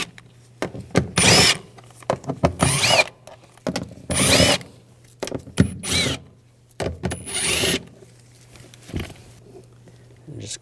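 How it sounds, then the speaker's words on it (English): A power tool on an 8mm socket pulls bolts from a cover on a 2006-2009 Mercedes-Benz E350 3.5L V6. It gives repeated short, sharp whirring bursts with pauses between them and a low hum underneath. "Take these bolts out."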